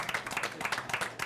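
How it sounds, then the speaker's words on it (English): A studio audience at a school quiz game show claps in a brief round of applause. The sound is a dense, moderately loud patter of hands that is still going at the end. "you can give him a round of applause"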